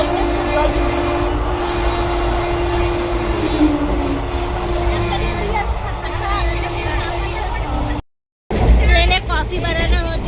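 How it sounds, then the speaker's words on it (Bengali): A moving passenger train rumbles loud and steady from inside a carriage, with a brief cut partway through, while people talk over the noise. "আগেই উঠে লাফ মানে ট্রেন ছেড়েও দিয়েছে"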